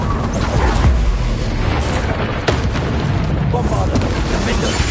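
Repeated fiery blasts from the Confringo spell in Hogwarts Legacy, dense booming bursts layered over continuous loud battle noise and a voice, with sharp cracks punctuating the dense rumble throughout.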